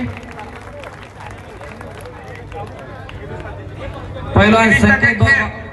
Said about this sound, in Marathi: एकदा टाळ्या होऊन जाऊ द्या त्या योगासन पट्टूसाठी